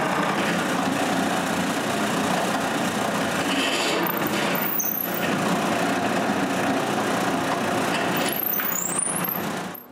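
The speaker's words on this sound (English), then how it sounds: "Next, it's time to drill the pivot holes." Drill press boring pivot holes in wooden tripod pieces, a loud steady motor whine with broad grinding noise running throughout, with brief high squeals near the start and end as the bit cuts in.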